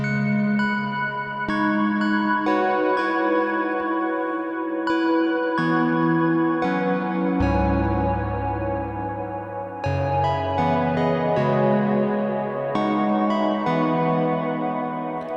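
Sustained synthesizer chords through a Strymon BlueSky v2 reverb pedal ring out with a wide, washy reverb tail, shifting every second or so, with a deep bass note entering midway; no voices.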